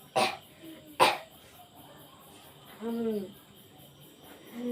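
Two sharp coughs about a second apart, followed by quieter throat sounds and a brief murmur, with faint insects chirping in the background.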